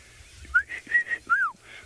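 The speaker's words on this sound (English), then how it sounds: "So a white-throated robin chat." A white-throated robin chat calls with a short series of clear, sweet whistled notes, some rising and some falling, bright and fairly close over quiet surroundings.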